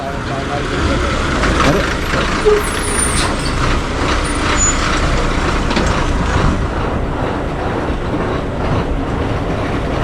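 A bus pulls in on a rural Konkan road near Sangameshwar, its diesel engine rumbling steadily with a hiss of air brakes, while people talk nearby.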